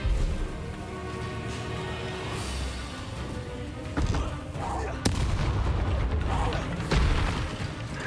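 Explosive Bombarda and Confringo spell blasts in the Hogwarts Legacy video game, several loud booming bursts punctuating a dense, rumbling battle soundscape with sharp cracks around the middle and end.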